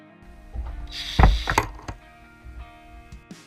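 Long screws driven into a homemade wooden editing desk, a mechanical whir with a few ratcheting clicks and a thunk, loudest in a short burst near the middle, close and alone.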